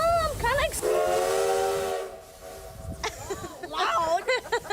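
A scenic tourist train sounds its steam-style whistle, a long, loud, harmonic blast held for about two seconds, with people talking before and after it.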